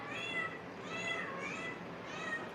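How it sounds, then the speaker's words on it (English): A cat meows repeatedly in a close, steady series of drawn-out cries with no talk over them. "That's Power Kitty"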